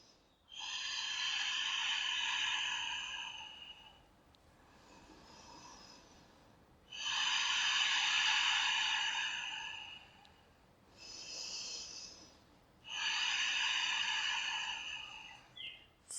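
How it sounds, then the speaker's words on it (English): Three slow, deep breaths during a yoga session, each a long airy exhale or inhale lasting a couple of seconds, separated by quieter pauses, close and clear with no talking. "I'm going to go for 3 more really deep and slow breaths."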